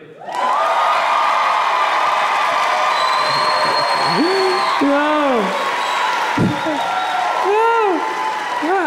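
A stand-up comedy crowd applauds loudly and steadily, with whoops and rising cheers rolling over the sustained clapping throughout.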